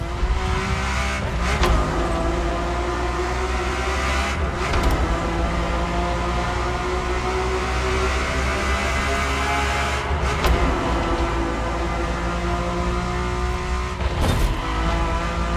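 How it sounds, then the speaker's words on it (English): A Ferrari F50's normally aspirated V12, a Formula One–derived engine, roars steadily and loudly throughout with rising and falling revs and brief squeals, with no voices heard. "The F50's core is a normally aspirated V12 that came straight from a Formula One."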